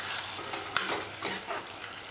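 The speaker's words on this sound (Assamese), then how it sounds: "জিকাখিনি এনেকৈ প্ৰথমতে ভাজি ল'লোঁ। এতিয়া মাছ কেইডোখৰ দি দিওঁ।" Ridge gourd and koi fish frying in a pan, a close sizzle with a few clinks and scraping stirs over about two seconds.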